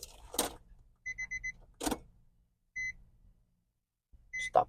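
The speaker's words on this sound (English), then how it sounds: "Enough of that beeping." Repeated electronic beeps from a Nissan 350Z while its newly installed 370Z fuel pump primes: a quick run of four short tones, then single beeps, interleaved with louder bursts of nearby clunks and rustling in a quiet garage.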